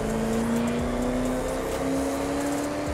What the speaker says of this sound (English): Your engine sounds so good.